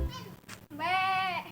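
A goat gives a single close, clear bleat lasting about half a second. A short rustle and a click come just before it, with no speech.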